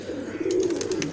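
Pigeons at a pigeon loft give a brief, steady low cooing, moderately close and continuous for about a second, with faint chirps above and no voices.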